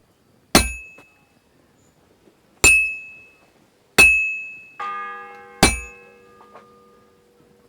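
Large church bell in the medieval game Kingdom Come Deliverance 2, struck four times at uneven intervals, each stroke a sharp clang with a long ringing decay, the last strikes overlapping a lingering hum.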